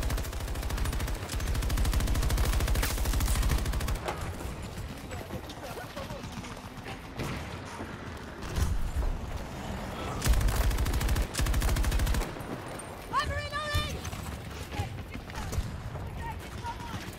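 Video game gunfire in Battlefield 2042 crackles in repeated bursts of rapid automatic shots, loud and close, with quieter stretches and people talking in between.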